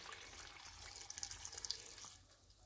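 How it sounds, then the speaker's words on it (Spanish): Water poured from a tap into a pot of fresh green beans in a kitchen: a faint, steady splashing stream with light gurgles, close by and alone, tapering off near the end. "Añadimos agua, 500 miligramos."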